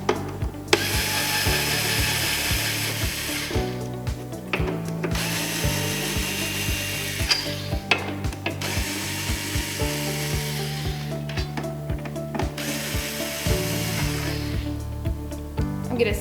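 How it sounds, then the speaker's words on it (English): Screws being backed out from the corners of a Mobile Mini roaming iPad photo booth, with repeated ratcheting, scraping bursts separated by short pauses, close and fairly loud. "I'm going to go around and remove the 4 screws in each corner of the Mobile Mini"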